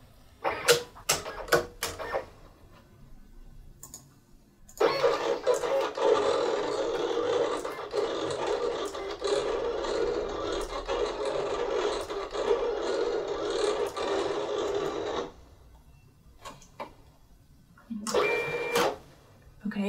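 A Silhouette Cameo 4 cutting machine cuts a vinyl design with a steady whirring, scraping drone for about ten seconds, framed by short clicks and clatter before and a brief burst of motor noise after.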